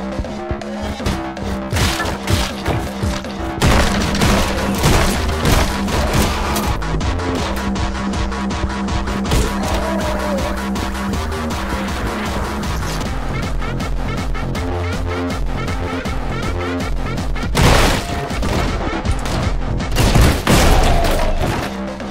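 Gunfire and explosions from the video game Anger Foot, a continuous, loud barrage of rapid shots, crashes and booms that runs the whole time, with heavier blasts near the end.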